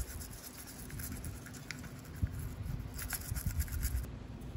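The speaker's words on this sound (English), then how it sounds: "Clean the old RTV off of the crankshaft pulley." Old RTV sealant being scrubbed off a GM 3400 engine's crankshaft pulley, a close, steady brushing and scraping with quick irregular strokes throughout, alone with no voices.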